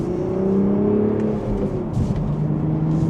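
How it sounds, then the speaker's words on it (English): A BMW Z4 manual convertible in sport mode pulls away in second gear, its engine note rising steadily and loudly in a smooth whirring drone, heard from inside with no talk. "And just a mild acceleration, we're up to speed."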